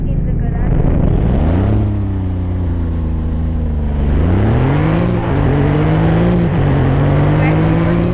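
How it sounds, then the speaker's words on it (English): A supercar with a loud exhaust revs up in two rising surges, engine tone climbing and holding, loud and close throughout. "who is that guy with the loud exhaust?"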